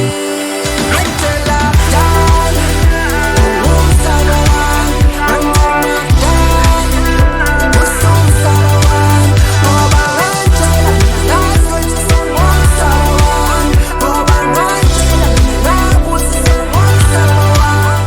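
Dense, loud music mastered through a double limiter chain plays continuously, with a pounding low beat under bright, full, heavily compressed instruments and a flat, unvarying loudness throughout.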